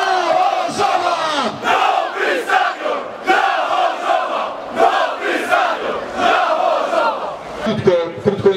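Ruch Chorzów football fans gathered in Chorzów's market square roar and chant together, a loud massed crowd of voices swelling and falling in waves for several seconds.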